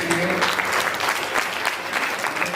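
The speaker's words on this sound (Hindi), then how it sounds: "एक बार जोरदार तालियां इन बच्चों के लिए" An audience claps loudly and steadily for children who have just performed a play, a dense, continuous round of applause filling the hall.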